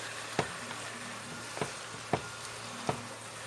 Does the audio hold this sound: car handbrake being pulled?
no